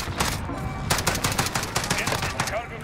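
Rapid gunfire in a Modern Warfare shooter match: a fast, loud string of close shots in quick bursts, with brief pauses between volleys.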